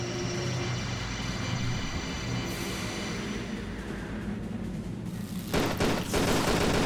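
Gunfire rattles in the video game Tomb Raider: The Angel of Darkness over a droning hum, with a burst of louder, denser shots breaking in near the end.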